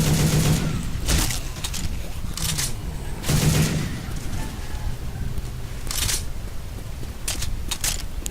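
Gunfire rings out in the zombie shooter Left 4 Dead 2 as several rapid bursts of shots, loud and close, separated by short gaps and underlaid by game ambience.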